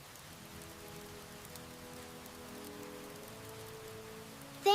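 Steady rain falling around a home in the mountains, a soft continuous hiss with a low warm hum underneath, ending in a sudden brief louder sound.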